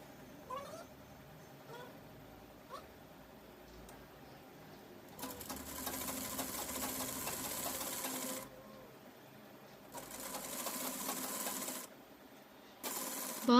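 A sewing machine stitches half-inch lace onto a trouser bottom in loud, close bursts of rapid whirring that start and stop, with quiet pauses between runs.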